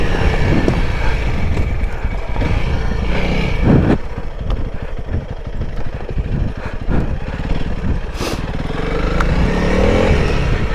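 A Honda CRF300L motorcycle is wheelied around a corner, its engine loud and close throughout with a rough, steady drone that surges slightly as the rider throttles.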